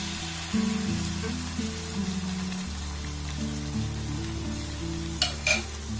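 Batter sizzles steadily in a small frying pan over a low gas flame, a soft continuous hiss with a few faint clinks from a utensil near the end and no speech.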